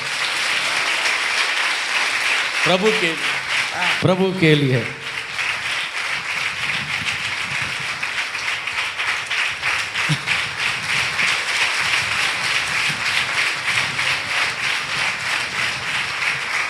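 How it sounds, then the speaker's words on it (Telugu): A church congregation claps loudly and steadily through a Sunday morning service, sustained dense applause with a voice briefly calling out over it early on. "అయ్యగారిని మన మధ్యకి తీసుకొచ్చిన యేసయ్యకి గట్టిగా చప్పట్లు కొడదాం"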